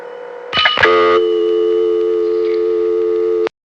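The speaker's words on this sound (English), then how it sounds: "That was a payphone on the campus of St. John's College. Every time you'd pick it up, there would be the local ring." A campus payphone in Annapolis, Maryland is picked up: a couple of clicks and handling knocks, then a steady, loud, continuous local ring tone that holds for over two seconds before cutting off abruptly.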